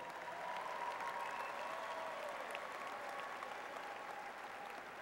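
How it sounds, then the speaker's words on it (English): Commencement audience at a West Virginia University College of Business and Economics ceremony applauds steadily, a dense, sustained clapping from a large crowd for about five seconds. "Give yourselves a round of applause,"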